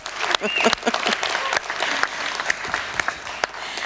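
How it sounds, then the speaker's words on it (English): Audience applause at a talk event thanking sponsors and organizers, with sharp individual claps standing out over a busy crowd clatter and some voices mixed in, continuing steadily throughout. "So let's give them a round of applause."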